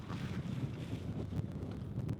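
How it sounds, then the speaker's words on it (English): Strong wind buffeting the microphone outdoors, a steady low rumble with gusty bursts throughout, loud and close with no talk. "It's super windy, so if you can hear any of this"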